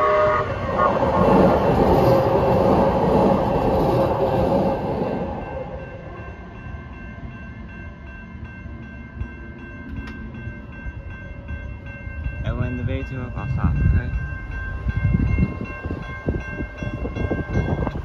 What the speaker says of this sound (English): So we're over here, here comes the train.